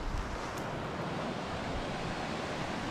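Sea waves wash against a harbour wall as a continuous rushing surf, with wind buffeting the microphone throughout.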